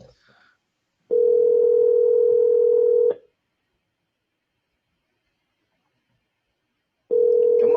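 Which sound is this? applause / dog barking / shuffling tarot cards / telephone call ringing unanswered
telephone call ringing unanswered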